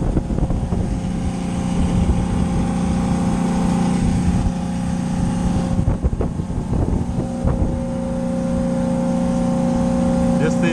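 A commercial freezer compressor runs during a manual defrost pump-down, a loud steady drone with tonal hum mixed with wind-like noise and someone talking over it.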